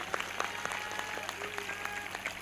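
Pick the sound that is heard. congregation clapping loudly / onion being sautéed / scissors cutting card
congregation clapping loudly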